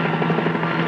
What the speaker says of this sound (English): Our boats will rely on the helicopter to guide us to a sea cow